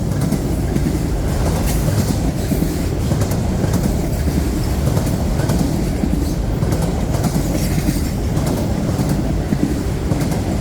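A long freight train of auto rack cars rolls steadily past at close range, a continuous loud rumble with rhythmic clickety-clack of wheels over rail joints and faint wheel squeal.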